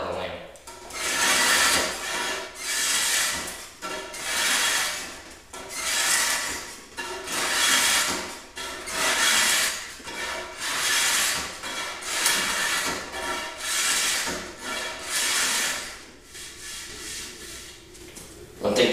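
Cabinet scraper drawn across a ring-porous wood bow limb, working the outer limb: steady rhythmic rasping strokes, about one per second, close and fairly loud, with a brief pause near the end and no talking.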